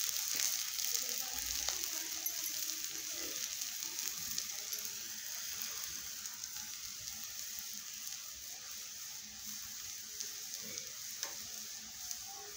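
A methi dhapate flatbread roasting on a hot griddle over a gas flame, giving a soft, continuous sizzle with faint crackles that slowly fades.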